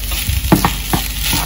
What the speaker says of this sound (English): Yeah, so just stir that around